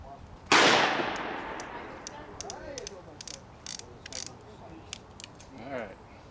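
A single loud, sharp shot from an 1860 Army black powder revolver cracks nearby and rings into a decaying tail, followed by clicking of the action and a voice speaking.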